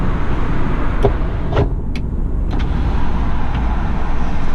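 Steady, loud road roar from inside a moving 2019 Hyundai Tucson on a busy highway, with a few brief clicks and whooshes of passing vehicles.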